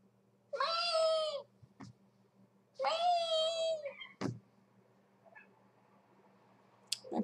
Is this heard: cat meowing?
yes